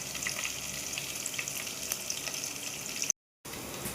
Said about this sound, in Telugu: చిన్నులపాయ కూడా వేసి ఎర్రగొచ్చేదాకా వేయించుకున్నాం.